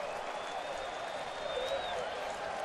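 Big baseball stadium crowd on its feet in Atlanta, a steady roar of cheering and applause with a whistle rising above it, loud and continuous throughout.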